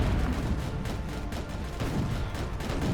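Anti-aircraft cannon fire aboard the battleship Bismarck in a naval combat video game, a rapid barrage of overlapping booms and cracks rolling continuously at moderate loudness.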